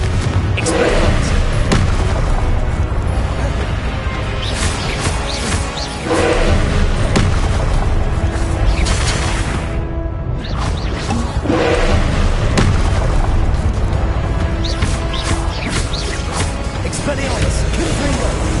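Confringo fire spell explosions in Hogwarts Legacy during a duel, repeated loud thumping blasts and impacts spread throughout, overlaid by a voice talking over the combat.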